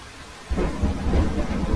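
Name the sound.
heavy rain and thunder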